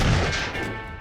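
An explosive cactus goes off in Totally Accurate Battle Simulator, a sharp crashing blast right at the start that quickly fades into a dull rumbling tail.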